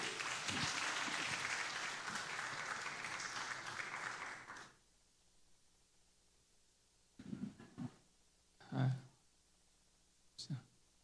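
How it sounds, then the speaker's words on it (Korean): Sustained applause from a church worship crowd fills the first few seconds, then cuts off, followed by quiet with a few scattered thumps and clicks. "큰 박수로 환영하겠습니다."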